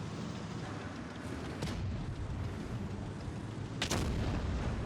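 Two tank cannon shots from the IS-3 heavy tank in World of Tanks Blitz, two sharp, fairly faint booms a couple of seconds apart over a steady background rumble.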